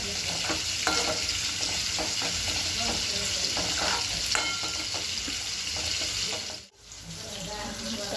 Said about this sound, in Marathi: मी इथे मिरची घातली आणि कोथिंबीर घातले हे पण आपल्याला छान फ्राय करून घ्यायचं